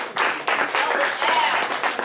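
A church congregation at a Unity Shabbat gathering of the House of Yisrael in Cincinnati claps for Elder Ariel, a close, uneven burst of hand claps with voices calling out over it.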